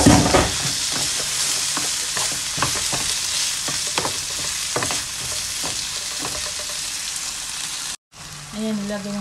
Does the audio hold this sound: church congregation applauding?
no